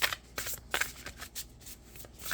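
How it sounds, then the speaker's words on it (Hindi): Tarot cards shuffled and drawn from a deck, a few soft riffling bursts and papery slides close up, with no talking. "अब हम 3 कार्ड और निकालेंगे बस, लास्ट 3 कार्ड्स।"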